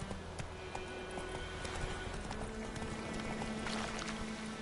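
Roach, a horse in The Witcher 3, trots along with steady, rhythmic hoof clops close by, its footfalls repeating evenly over a low ambient game soundscape.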